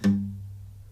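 One dull, muffled guitar pluck with a soft attack, its bright overtones quickly dying while the low tone lingers briefly.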